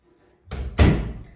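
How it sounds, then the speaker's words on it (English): A door closed by hand, a brief scrape as it swings followed by a solid thud as it shuts, close and fairly loud, with no talking. "I can close the door again."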